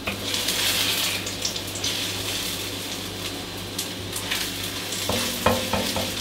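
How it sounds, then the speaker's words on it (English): An egg fries in a large frying pan on an induction hob for a fried rice salad, giving a constant close sizzle with light scraping and clattering of a utensil toward the end. "I'm going to plonk that egg into the pan."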